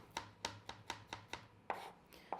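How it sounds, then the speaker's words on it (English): A knife chops food on a cutting board in a kitchen, seven or eight crisp, evenly spaced close knocks of the blade striking the board, with no talking. "When chopping things that are smaller"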